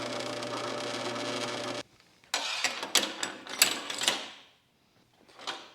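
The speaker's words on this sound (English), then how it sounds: "we got quite a bit of vibration here from this motor" A bench-top drill press motor runs with a steady hum and heavy vibration, then cuts off abruptly, followed by several sharp metallic clatters and rattles nearby.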